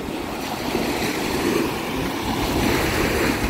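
Steady wash of surf breaking on a beach during rain, a broad continuous hiss with some wind, fairly loud and even throughout, no voices.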